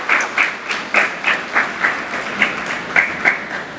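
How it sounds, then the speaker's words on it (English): A small audience applauds the current Iere High School team at a graduation and awards ceremony, the clapping sparse and distinctly pulsed in a loose rhythm, moderately close and fairly light. "let's applaud our current team"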